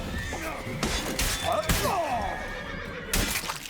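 A horse in The Witcher video game neighs and whinnies with a rising, wavering call near the middle, amid game sound effects, thuds and a voice speaking.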